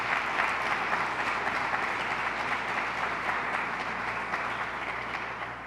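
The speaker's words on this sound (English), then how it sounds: "Give her a round of applause." An audience applauds for Governor Kathy Hochul at a public event in Rochester, a dense, steady clapping that continues for several seconds with no speech over it.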